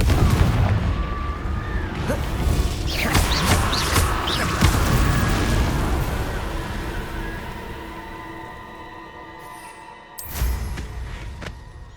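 Confringo spell explosions in Hogwarts Legacy: a dense barrage of loud booms and crackling blasts up front that fades into a quieter rumble, then one more sharp burst near the end.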